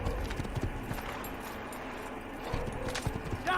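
Horse hooves clip-clop steadily during riding in the Assassin's Creed video game, a continuous rhythmic patter with game ambience and a brief whinny-like sound near the end.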